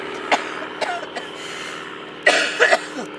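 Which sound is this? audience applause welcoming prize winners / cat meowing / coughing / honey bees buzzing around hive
coughing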